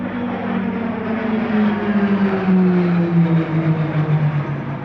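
PC-21 turboprop trainer passing at an airshow, a loud continuous engine roar with a slowly falling propeller tone as it flies by.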